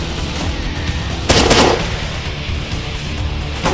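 STG-74 rifle shots in a S.T.A.L.K.E.R. game mod, a loud close burst of fire standing out against a steady rumbling background, with a sharp crack near the end.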